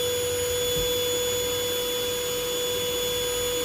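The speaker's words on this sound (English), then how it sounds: "I got the vacuum set" A vacuum cleaner drones at a constant pitch with a steady mechanical whine and hum, running without pause while being used against yellow jackets nesting in a bedroom ceiling.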